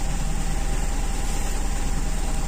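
A motorcycle engine fitted with an Aisan carburetor idles steadily, a constant low rumble with an even pulsing throb and no pauses, fairly loud and close.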